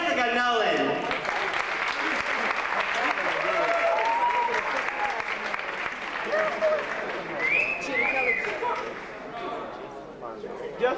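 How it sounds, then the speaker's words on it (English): A pageant audience at Miss Florida National applauds as a performer is welcomed to the stage, loud sustained clapping with cheers and whoops mixed in throughout. "Please welcome to the stage with a great round of applause"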